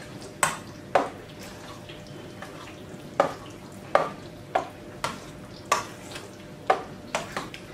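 A utensil stirs eggplant salad with salt and olive oil in a bowl, giving a series of sharp clinks and scrapes against the dish at an irregular rhythm, close and distinct.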